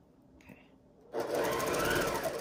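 A sewing machine stitching a quilt seam starts after a quiet second with a faint click, then runs as a loud, close, steady buzzing whirr to the end.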